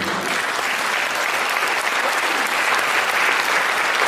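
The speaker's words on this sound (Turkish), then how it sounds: "alkışlar için tabii." Sustained applause from a concert audience at an operetta and revue song show in Istanbul, steady and dense throughout, with no talk over it.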